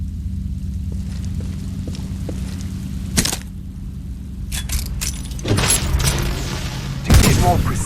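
Weapon fire on the shooting range in Titanfall 2 cracks out in a few sharp, loud shots over a low steady hum, with a burst of clattering reload and handling noises between the blasts.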